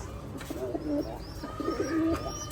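Pigeons of a German breed coo softly and repeatedly, close by under a farm shelter roof. The low, rolling coos come in short phrases, with faint chirps in the background and no speech.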